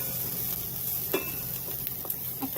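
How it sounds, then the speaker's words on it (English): Onions frying with cumin and coriander spices in a pan, with a steady close sizzle and a few light stirring scrapes, no voices. "what we're just going to do is fry off those spices"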